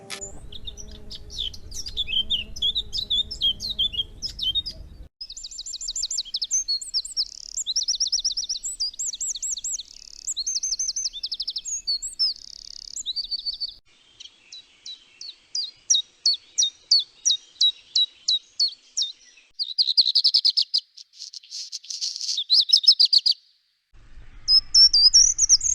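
A series of songs from several different wild bird species plays one after another: high, clear chirps, trills and rapid repeated notes, with short pauses between the examples.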